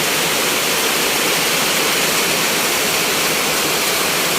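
Floodwater rushes after heavy rain, a loud, constant broadband roar of churning water with no pauses and no voices over it.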